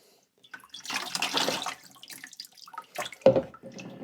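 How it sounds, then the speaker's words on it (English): Ceramic glaze drips and splashes off a bowl in uneven, scattered spatters and trickles, with a louder splash near the end, close and fairly quiet. "I'm just gonna let it drip a little bit"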